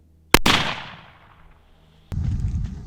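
A single sharp gunshot fired at a homemade shield built from garbage, loud and close with a fading echoing tail, followed by a brief click and a burst of shuffling noise.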